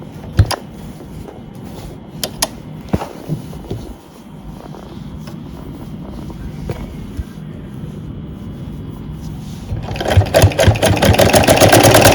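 A sewing machine running a seam on a salwar, with scattered clicks and handling sounds before the motor builds to a steady, close whirring stitch toward the end.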